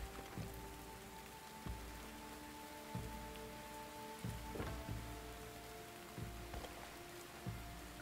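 Steady rain in The Ancients video game falls across a surface, a constant wash with scattered drop impacts and soft low thumps throughout, alongside a faint sustained musical hum.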